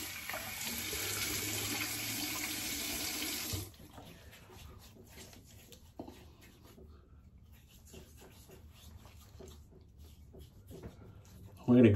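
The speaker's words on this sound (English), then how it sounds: "So a little bit more warm water." Warm water gushes steadily from a tap for a few seconds during a safety razor shave, then shuts off, leaving a quiet room with faint movement and a sudden noise at the end.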